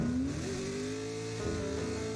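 An LS-swapped Miata drift car held on smooth throttle through a drift, a steady engine drone with rising and falling pitch heard from a distance at moderate level.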